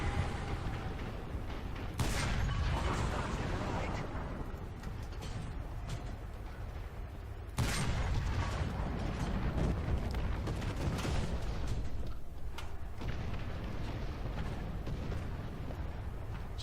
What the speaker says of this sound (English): Artillery fire's probably coming down on my head